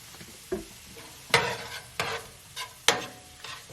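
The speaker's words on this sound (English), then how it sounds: "So I'm sauteing the onions." Red and yellow onions sauteing in oil in a pan, a quiet, soft sizzle broken by several sharp stirring clatters and scrapes at uneven intervals.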